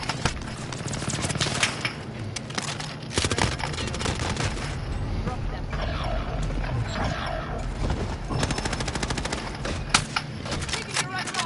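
Rapid automatic gunfire rattles throughout a Warzone firefight, dense bursts and sharp cracks overlapping continuously with chaotic background noise and occasional voices.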